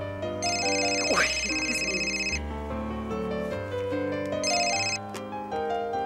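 A telephone ringtone plays a repeating electronic melody in bursts, close and clear, with faint background movement before the call is picked up.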